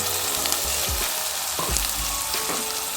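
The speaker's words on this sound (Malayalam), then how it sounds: "ഇനി ഞാനിതിലേക്ക് ചേർത്ത് കൊടുക്കുന്നത് നമ്മുടെ അരിഞ്ഞു വെച്ച സബോളയില്ലേ സബോളയും അതേപോലെ തന്നെ ചെറിയ ഉള്ളി നമുക്കിതിലേക്ക് ഇട്ട് കൊടുക്കാം" Chopped onions and shallots fry in a prawn curry base with a steady, loud sizzle throughout and a few soft stirring knocks on top, no voices.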